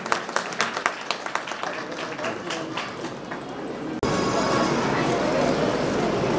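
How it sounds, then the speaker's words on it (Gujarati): Clapping from the crowd at a Sorathiya Prajapati community mass wedding in Upleta, scattered sharp claps for several seconds, then cut off abruptly into a steady broadband wash of crowd noise. "તાળીઓ."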